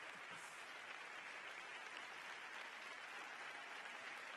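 A standing theatre crowd at a medal awards event in Badajoz keeps up continuous applause, an even roar of clapping heard from a distance at low volume throughout.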